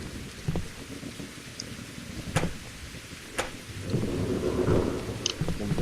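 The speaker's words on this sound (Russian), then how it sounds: "Так, пошел дождь." Night rain falls in a post-apocalyptic survival video game, a steady hiss of rain with a few sharp cracks and a swelling rumble of thunder toward the end.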